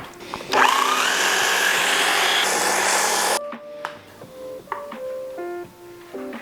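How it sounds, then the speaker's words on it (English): A small food processor whirs loudly while blending butter into pastry cream, a steady high motor drone for a few seconds that cuts off abruptly, followed by faint clinks and light handling noises. "I'm gonna blend in that butter and emulsify it."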